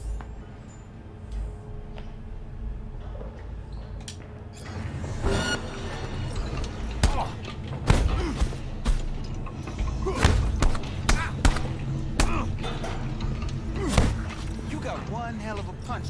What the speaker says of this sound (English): One hell of a punch there, champ.